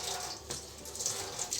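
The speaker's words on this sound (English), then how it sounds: "I use hot water to rinse." Hot water runs steadily from a tap to rinse a soiled cloth diaper, a close, constant splashing hiss for a couple of seconds with small fluctuations as the cloth moves under the stream.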